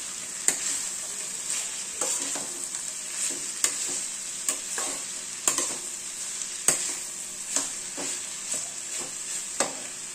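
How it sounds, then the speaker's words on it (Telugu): Vegetables for fried rice being stir-fried in oil or butter: a constant quiet sizzle broken by sharp, irregular clacks of a spatula against the pan, about every second or so. "బాగా ఫ్రై చేయాలి."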